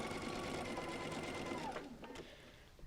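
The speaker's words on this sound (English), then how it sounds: "I'm going to sew them right back on again." Sewing machine stitching quilt pieces back on, a close, steady mechanical whir that runs for a couple of seconds before stopping, followed by light handling clicks.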